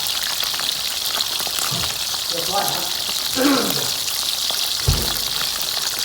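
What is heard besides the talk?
frying in a pan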